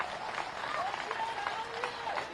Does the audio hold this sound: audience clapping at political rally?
yes